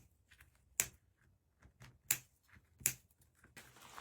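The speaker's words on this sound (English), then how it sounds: "And then we'll cut off the zip tie tails." Zip tie tails trimmed off a mesh wreath with cutters: three sharp, crisp snips spaced about a second apart, close by, with small rustles of handling between them.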